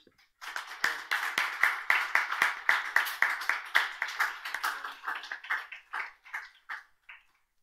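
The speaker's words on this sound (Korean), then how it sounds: "우리를 위해서 승리하실 우리 주님께 영광의 박수 한번 올려드립시다." A church congregation claps in a crisp, rhythmic burst of many hands together for about seven seconds, then loosens and fades into scattered claps in a quiet room.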